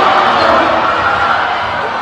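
A crowd at a school fundraiser cheering on children, a dense wash of shouting and roaring voices that holds steady and loud for about two seconds.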